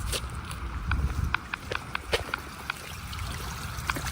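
A small solar-powered water garden fountain trickles and splashes in a backyard pond setting, with soft irregular drips and patters over a low steady background.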